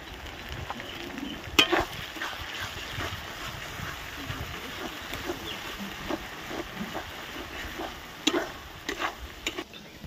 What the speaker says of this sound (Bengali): দিয়ে ভালো করে মশলাটা আমরা কষিয়ে নেবো।